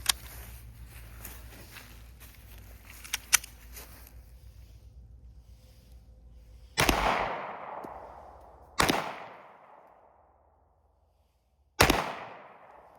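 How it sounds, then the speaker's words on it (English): Three loud, sharp pistol shots from a Ruger EC9S are fired at a Level 3A armor plate outdoors, spaced a few seconds apart, each ringing out with a long decaying echo after quieter handling noises. "So our next pistol is going to be the Ruger EC9S, and we're going to be using ballpoint for this as well."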